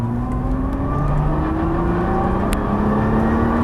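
A Nissan GT-R on a track accelerates out of a corner, its engine rising steadily in pitch as it pulls through the gear, loud and close with no voices.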